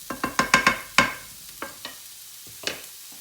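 Vegetables and mushrooms stirred in a frying pan, with a quick series of sharp utensil knocks against the pan, then sparser scrapes and clacks over a soft sizzle.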